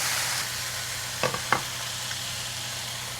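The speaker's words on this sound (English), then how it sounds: "We're going to give this a stir." Stirring food sizzling in a pan for a Lunar New Year family meal, a steady hissing fry with a couple of sharp scraping clicks from the utensil midway, close and without talk.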